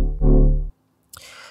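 A single soft synth note with a warm, rounded tone from a single triangle-sine oscillator swells and stops, followed by a brief noisy burst.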